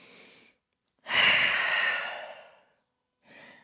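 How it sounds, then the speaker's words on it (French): A deep, audible breath taken in downward dog during a vinyasa yoga sequence, one long close exhale-like rush of air between shorter soft breaths, with no talking. "dernière grande respiration dans votre chien tête en bas"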